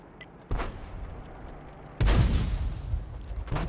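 A GW Panther self-propelled artillery gun fires in World of Tanks: a sharp boom, then a louder, heavier blast with a rolling tail, and a third burst starting at the end, all close and without talk.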